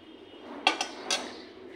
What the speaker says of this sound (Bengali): এখন এই বাটিতে আমি সার্ভ করে নেব